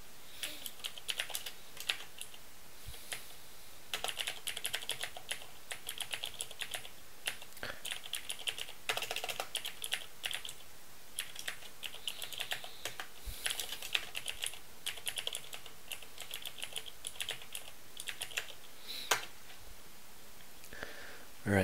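Typing on a computer keyboard during Python coding, a long run of quick, irregular key clicks and taps in close bursts with short pauses, fairly quiet and with no talking.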